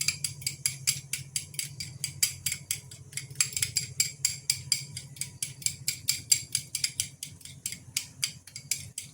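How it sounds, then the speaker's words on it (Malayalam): A fork briskly whisks a homemade face pack mixture, giving quick, regular, clicking scrapes against the container in a steady rhythm that is fairly close and unaccompanied by speech. "ഇതുപോലെ ഫോർക്ക് കൊണ്ട് തന്നെ നന്നായിട്ടൊന്ന് അടിച്ചെടുക്കുക"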